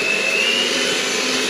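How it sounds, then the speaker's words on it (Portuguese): Electric mixer running at medium speed while beating chocolate cake batter, a steady, continuous motor whir with no pauses, close and fairly loud, with no talking. "Essa é a batedeira numa velocidade média, pode fazer mais se quiser"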